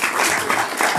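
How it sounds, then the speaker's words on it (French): Audience applause at a jazz festival in Saint-Germain, a brief burst of dense crowd clapping that is loud and close. "et on applaudit Eva Rock."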